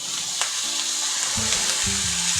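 Tomato sautéing in a pan for a spring onion bhaji, a close, continuous sizzle with a few scraping stirs in the second half, no voices.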